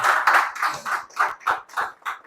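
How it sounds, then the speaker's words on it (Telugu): An audience at a pregnancy success story event applauds, with about eight rhythmic, fairly close hand claps in quick succession over a couple of seconds. "గట్టిగా చప్పట్లతో అభినందనలు తెలియజేస్తాం"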